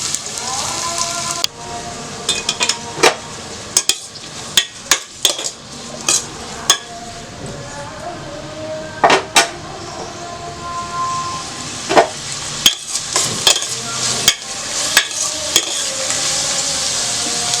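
Cumin seeds and chopped onions fry in hot oil in a home kitchen for a gongura chicken curry, giving a steady loud sizzle broken by repeated sharp scrapes and clatters of stirring, with no one speaking.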